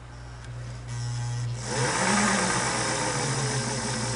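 A Singer 327K sewing machine's motor runs slowly, a steady close hum with a low mechanical tone that picks up slightly in pace partway through, heard alone.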